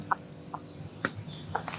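A native hen clucks in short, separate bursts, several soft calls spaced irregularly over a quiet background.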